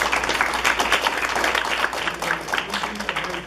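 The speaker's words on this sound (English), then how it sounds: "can you just give me some round of applause?" Steady, dense audience applause fills a lecture hall at a talk for students heading to U.S. medical schools, holding a loud, even wash of clapping throughout with no clear speech on top.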